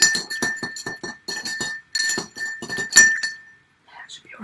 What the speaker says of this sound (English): So nice stir now. Just cooling all those spirits down.